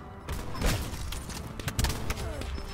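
Sniper rifle fire in Call of Duty Black Ops 4, sharp booming reports at about two moments over continuous busy game noise and mechanical effects.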